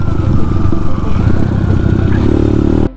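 A motorcycle climbs a slippery red-stone hill road, engine revving loud and close with rattling clatter and scraping from the rough surface, then cutting off abruptly at the end.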